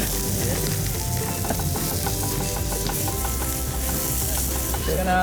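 Onion sizzles steadily in a hot pan as it begins to soften, a dense, close frying crackle with occasional stirring clicks, continuous and without talk.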